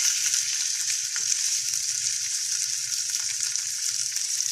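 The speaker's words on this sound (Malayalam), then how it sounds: "നമ്മുടെ മീനിൻ്റെ 2 വശവും ഷാലോ ഫ്രൈ ചെയ്ത് നമുക്ക് മാറ്റി വയ്ക്കാം." Fish shallow frying in coconut oil, a steady close hiss and crackle of sizzling that holds evenly throughout with no talking.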